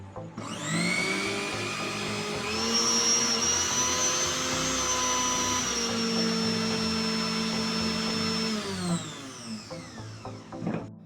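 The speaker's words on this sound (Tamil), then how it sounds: "ஸோ இப்போ ஸ்மூத்தாக ரன் ஆகுது மிக்ஸி எந்த ஒரு பிரச்சனையும் இல்லாமல் சூப்பராக ரன் ஆகுது" An electric mixer grinder motor runs steadily after being reassembled, a loud continuous whine with rising pitch at start-up, holding smooth for several seconds before spinning down near the end, with no talk.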